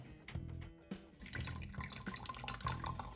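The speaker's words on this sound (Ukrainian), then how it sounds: "Ну а сюди заливається вода." Water pouring and trickling into the water tank of an RZ-608 garment steamer close by, a steady gurgling stream after a few faint drips at the start.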